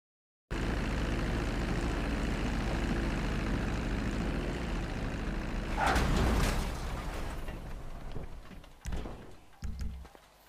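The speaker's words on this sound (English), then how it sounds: "that is the second plane landed" A cargo plane lands at the airport in GTA Online, its steady engine drone running loud and then fading, with a brief rumble and clunks of touchdown.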